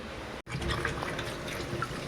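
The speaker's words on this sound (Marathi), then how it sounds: "तर आता या स्वच्छ आपण धुवून घेऊ" Water splashing and running steadily as raw mangoes are rinsed by hand in a basin, with a brief silent gap near the start.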